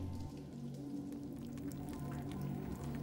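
Steady rain falls throughout a scene from a Resident Evil film, a dense, even wash of drops and patter at a constant level with no voices over it.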